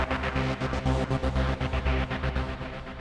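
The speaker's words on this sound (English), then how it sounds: "So if I were to add a Transgate to the bass that I'm currently on right now," A Nexus 3 synth bass chopped by a Transgate sequencer into a fast rhythmic stutter, dense and steady throughout, loud and up close with no voice over it.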